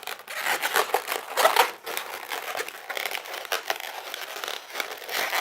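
A long latex modelling balloon is twisted into a ray gun, giving continuous close rubbing, squeaking and crinkling that swells and fades in uneven bursts.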